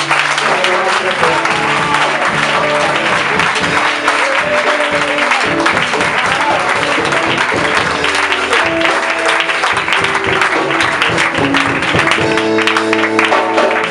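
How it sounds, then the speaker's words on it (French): A church congregation claps and applauds continuously to acclaim the Lord during a worship service, loud and sustained throughout with music and voices beneath. "Nous allons acclamer le Seigneur pour le célébrer."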